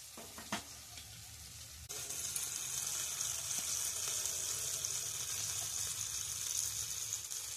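Cumin, ginger and onion paste hitting hot oil for egg curry, a steady close sizzle that jumps louder after a couple of seconds and keeps frying on its own with faint stirring.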